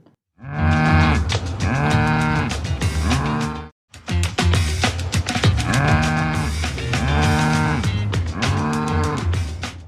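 A cow moos loudly and repeatedly in long, drawn-out calls close by, with a brief gap between bellows.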